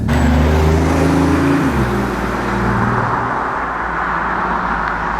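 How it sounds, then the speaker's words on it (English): A BMW i8 Roadster drives by under its own power, a loud, continuous engine and road roar that rises briefly at the start, then settles into a steady, even drone with no talking. "this is the sound of the BMW i8"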